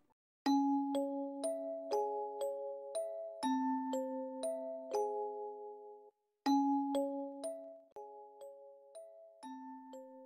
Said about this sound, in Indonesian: jangan lupa untuk nyalakan lonceng notifikasinya